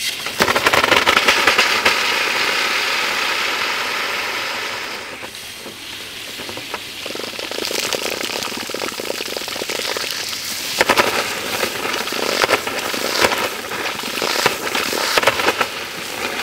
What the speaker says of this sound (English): Man, there's a lot of pressure right now. There's a lot of air in the line.